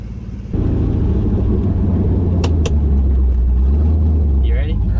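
A car with a new shifter pulls away in first gear, its engine jumping to a loud, steady close rumble inside the cabin, with people talking briefly over it.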